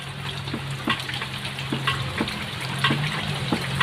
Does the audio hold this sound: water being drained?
yes